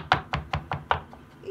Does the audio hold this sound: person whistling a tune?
no